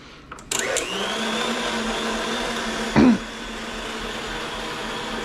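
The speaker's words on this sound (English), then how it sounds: "if you don't have a stand mixer, you can always use a hand mixer if you have one of those" An electric mixer beating tres leches cake batter switches on with a click and runs as a steady close whirring drone, with a brief louder knock of the beaters against the bowl midway.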